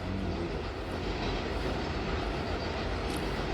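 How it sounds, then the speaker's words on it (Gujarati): A train passes close by with a dense, continuous rumble and rattle of railway cars, loud and steady throughout with no talking. "મેં જે વિડીયો ચાલુ કર્યો તો સામે ટ્રેન આવી ગઈ"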